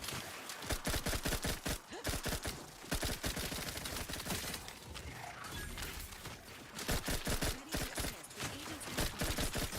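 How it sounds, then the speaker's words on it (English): Rapid submachine gun bursts in a shooter video game, loud and continuous, with dense rattling volleys and brief pauses between strings of fire. "the SMG is fun"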